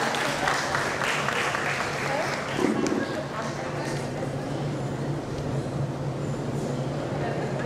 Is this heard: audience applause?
yes